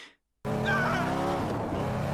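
A taxi driven in GTA IV, a loud steady engine drone with tire noise starting abruptly after a brief silence and holding close and continuous.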